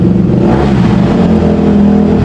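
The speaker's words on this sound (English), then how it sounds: "my dad's ripping the bike" Dirt bike engine revving hard in a backyard, a loud, continuous throaty buzz that holds close and steady throughout with no pauses.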